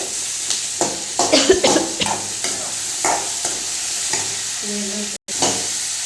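Four tomatoes frying in a pan for a Tamil-style thuvaiyal give a loud, close sizzle, broken by a run of spoon-stirring scrapes and clanks and one brief cutout near the end.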